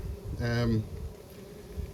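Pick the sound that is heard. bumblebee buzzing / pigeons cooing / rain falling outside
bumblebee buzzing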